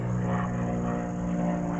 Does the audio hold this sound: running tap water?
no